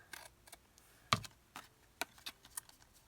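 Scissors cut through craft material for a trifold tag wallet folio, giving a handful of sharp, close snips and clicks spaced irregularly in a quiet room.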